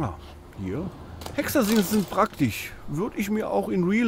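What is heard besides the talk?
No everyday noise stands out behind the speech.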